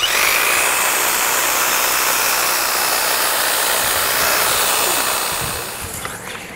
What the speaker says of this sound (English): I'm just going to lightly shear this yew bush.